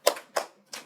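Three sharp hand claps in an even rhythm, part of a classroom cleanliness clapping chant, close and fairly crisp with brief decays and no talking.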